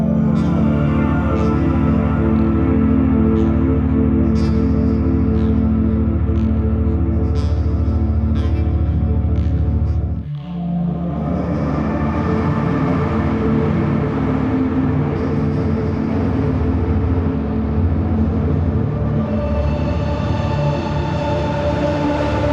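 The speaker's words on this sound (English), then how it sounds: "Both of these take the vocals and pad and turn them almost into the sound of crashing waves." Vocals and a synth pad run through Filterverse plugin filters become a dense, roaring wash like crashing waves, loud and continuous, with a brief dip and shift in texture midway.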